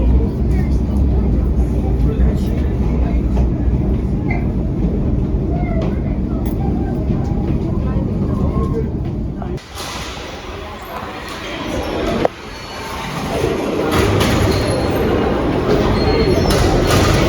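A Sydney passenger train rumbles loudly for about ten seconds, then eases to a quieter interior rolling hum with a sharp clunk partway through.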